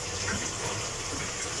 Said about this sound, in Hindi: तो अब जो है ना इसमें ऑयल डालेंगे